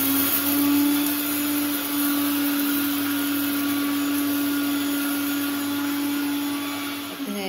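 A mixer grinder whirs steadily as it grinds batter for ambado, a loud, even motor drone lasting several seconds before it starts to wind down at the end.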